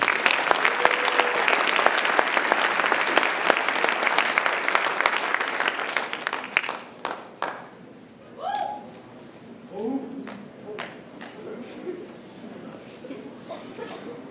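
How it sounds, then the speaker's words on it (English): Audience applause at a high school fall sports awards night for the cheerleading team, a loud sustained burst of clapping for about seven seconds that fades into quieter murmurs, with faint bird-like coos and a voice in the background. "so let's give them a round of applause."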